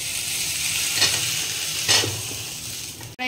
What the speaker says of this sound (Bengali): আমি একটু গোটা গোলমরিচ আর গোটা জিরে ভেজে নিচ্ছি